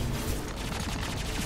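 Rapid gunfire in the shooter game Mass Effect, a loud, dense burst of overlapping shots rattling continuously through the whole short moment, with no voices.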